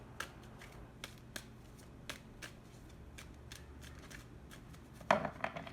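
Tarot cards being shuffled and handled, giving quiet, sparse papery clicks and light snaps spaced irregularly, with one sharper flurry near the end; no voices.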